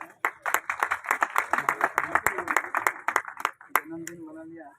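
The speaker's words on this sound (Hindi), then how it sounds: "एक बार जोरदार तालियां।" An audience at a Vishwakarma Mahapuran udyapan and initiation ceremony claps in a quick, fairly rhythmic burst of close hand claps for several seconds, then a voice speaks as the clapping fades.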